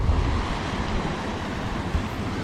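A waterfall plunges at Madhe Ghat in the misty monsoon hills, giving a steady, dense roar of falling water with gusty wind buffeting the microphone and no voices.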